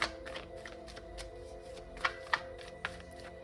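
Tarot reading cards being shuffled by hand, a soft papery riffling texture with a few sharper snaps and clicks near the end, close and quiet with no talking.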